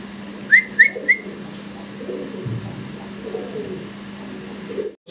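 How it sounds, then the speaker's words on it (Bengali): A pair of red-coloured desi Golla pigeons gives a few short, sharp calls close by near the start, followed by soft low cooing murmurs, with a faint steady hum behind. "একজোড়া দেশি রেড কালারের কালারিং গোল্লা কবুতর আপনারা দেখতে পারতেছেন"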